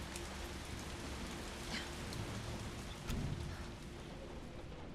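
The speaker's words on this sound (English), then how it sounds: "It's raining again." Rain pours down in the video game Resident Evil 3, a steady hiss of drops striking surfaces with a faint low rumble beneath and a brief swell near the middle, and no voices.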